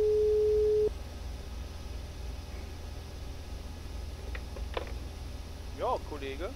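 Ringing tone of a GSM-R cab radio call to the operations centre in a BR 101 Expert train simulator game: a steady electronic tone at the start, then quiet hum and a few faint beeps.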